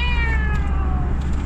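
A cat meows in a drawn-out, falling cry, close and clear over a steady low rumble of a car engine on a steep mountain road.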